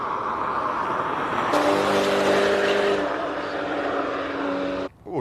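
A Porsche GT3-class race car on a hill climb run at Simola, its engine holding a steady high-revving note that climbs and shifts as the car passes, loud and close before cutting off abruptly near the end.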